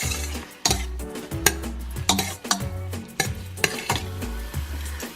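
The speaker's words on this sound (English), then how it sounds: "So I'm gonna start with our marinated mushrooms. Just saute them for a few minutes" Marinated mushrooms sautéing in a pan for Korean japchae, a sizzling hiss punctuated by rhythmic utensil scrapes and taps against the pan roughly every half second, close and fairly loud, with no talking.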